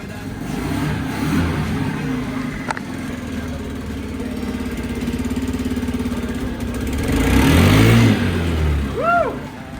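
Honda 50 scooter engine running after a kick-start with a flat battery: a steady, close mid-pitched putter that swells as the throttle is blipped near the end, with no talking.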